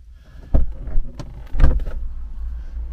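Inside a Ford Fusion fitted with new door lock dampers, a door shuts twice with dull, muffled thuds about a second apart, heard close over a low cabin rumble.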